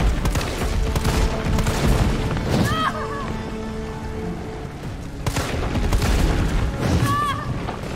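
Gunfire and booming blasts in Resident Evil 3, loud and dense, in a sustained barrage that eases briefly in the middle and then surges again, with voices and game sounds mixed in.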